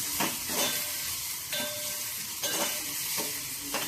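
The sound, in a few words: onion frying in oil with turmeric and asafoetida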